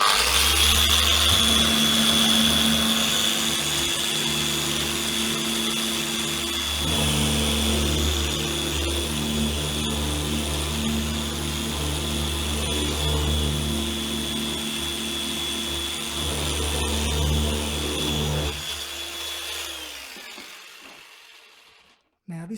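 Power sander working over a tough surface on a Millard caravan wall, a steady loud motor drone with a high whine running for about twenty seconds before cutting off.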